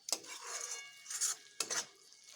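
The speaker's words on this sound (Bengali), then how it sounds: "এবার এগুলো বেশ ভালোভাবে মিশিয়ে নিচ্ছি। কিছুটা নেড়ে চেড়ে নিচ্ছি।" Food being stirred and mixed in a pan for a pointed gourd and gobindobhog rice dish: three separate bursts of utensil scraping and clatter against the pan, fairly close and with no talking.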